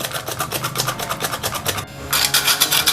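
Powdered sugar is beaten into chocolate cake batter in a bowl, producing fast, rhythmic whisking strokes close up. The strokes pause briefly midway, then resume slightly louder, with no voices.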